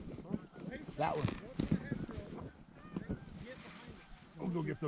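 Geese honk as they fly in during an early-season goose hunt in Washington State, a few scattered calls heard under and between people talking nearby.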